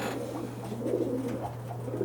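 A racing pigeon coos softly in its loft, a low, throaty, warbling coo repeating over a steady background hum.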